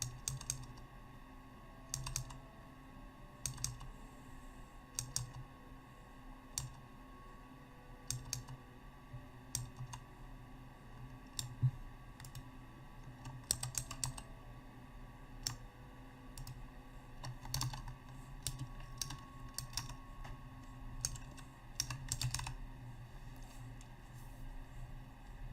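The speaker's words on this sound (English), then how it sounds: "I'm just pressing one key" Computer keyboard keys clacking in steady repeated presses, with occasional sharper clicks, over a constant low electronic hum while a player tests a Zerk build in the online game Kritika.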